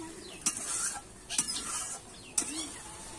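A spatula stirring taro greens with prawns in a pan for a traditional Bengali dish, giving three brief, faint scraping strokes about a second apart over a low background.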